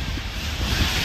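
Strong typhoon wind during a Signal No. 5 storm pours out as a brief, steady, loud rush of low, buffeting noise with no voices.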